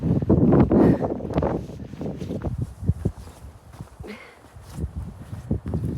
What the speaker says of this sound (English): It's just blocking the wind, and this is where the wind is coming from